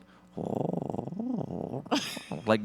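A voice makes a low, rhythmic purring trill imitating a bird, pulsing steadily, then rising into a couple of higher warbling sounds at the end.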